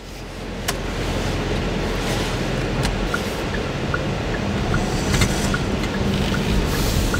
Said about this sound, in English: Okay, let's see how this car drives.